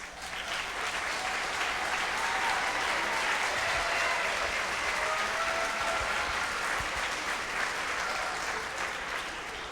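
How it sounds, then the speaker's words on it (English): Sustained, even applause fills a middle school spring concert hall as the audience claps for the school staff, with a broad wash of many hands heard from a distance. "stand up so we can clap for you."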